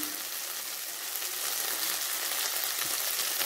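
Vegetables frying in a pan for chicken chow mein, a loud, even, close sizzle that builds slightly and holds without pause, with no talking.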